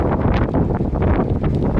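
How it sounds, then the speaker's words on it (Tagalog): Steady, loud wind on a sea dike while fishing, buffeting the microphone with a continuous roaring rush and gusty surges, nothing else standing out. "lakas ang hangin"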